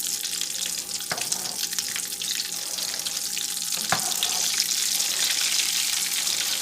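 Vegan cheesy jalapeño potato balls frying in a pan over medium heat, a steady close hiss of oil with a couple of brief knocks as they are turned.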